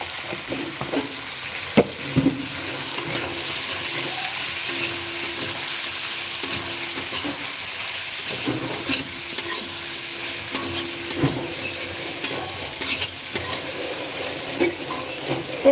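A small tomato sizzles as it fries in a pan, a steady crackling hiss broken by occasional scraping clinks of stirring, with no talking.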